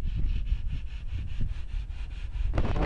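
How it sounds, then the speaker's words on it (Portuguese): A wall being sanded by hand before painting after filler was applied, giving a steady, close rubbing and scraping in repeated strokes, growing louder toward the end. "Tá lixando a parede, olha lá,"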